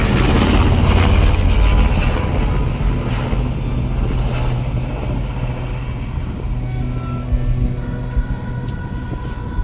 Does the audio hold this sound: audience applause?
no